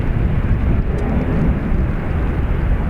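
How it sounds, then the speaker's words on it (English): ATR turboprop airliner departing Dublin Airport for Birmingham, a loud steady low engine roar with broadband rumble and wind noise, sustained throughout without voices. "Is this ATR off to Birmingham?"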